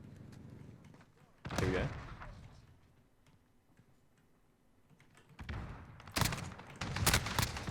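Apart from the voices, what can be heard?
shotgun gunfire in Call of Duty: Modern Warfare (video game)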